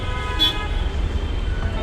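Busy road traffic rumbling nearby with a sustained car horn blaring steadily through the whole stretch.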